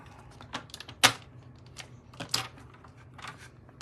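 Paper is trimmed with a cutter in a quick series of crisp clicks and snips, close and fairly quiet, with one sharper cut standing out among lighter taps.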